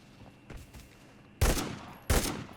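Gunfire in the shooter game Arena Breakout: a couple of faint distant shots, then two loud, close blasts with a short rattling tail about a second apart.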